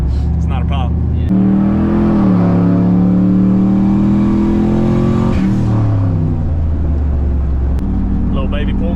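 A single-turbo 5.3 Chevrolet Silverado truck on Nitto tires does a short pull, the engine loud and close as it revs up, holds a rising drone for several seconds, then drops back to idle.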